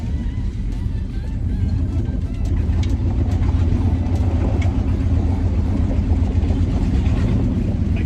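A 1965 Acadian Beaumont car engine, neglected for years, warms up outdoors, a loud, steady low rumble that holds evenly throughout with faint higher clatter above it.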